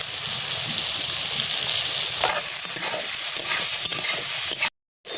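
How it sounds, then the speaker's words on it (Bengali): Soybean chunks frying in oil with a loud, continuous sizzle and stirring scrapes, growing fuller partway through before a sudden brief dropout near the end. "সয়াবিন ভাজা হয়ে গেছে"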